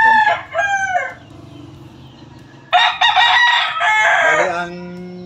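Rooster of the Sweater Red gamefowl line crowing twice nearby, each a loud drawn-out call with a short gap between them, over faint background clucking from other fowl.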